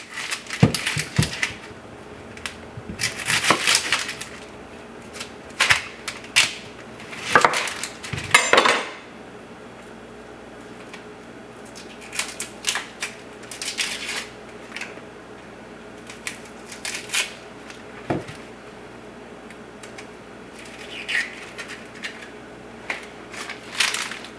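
A knife chops one medium onion on a cutting board in a home kitchen, uneven clusters of quick tapping strikes with pauses between, moderately close.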